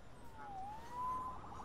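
A police siren wails in Marvel's Spider-Man video game, one short, rising and falling tone drifting over faint, steady background noise.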